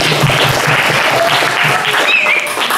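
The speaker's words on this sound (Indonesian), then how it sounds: "beri tepuk tangan" Applause from an audience at an Islamic preachers' competition held by MUI Antapani Kidul, steady clapping throughout with a few voices and cheers mixed in.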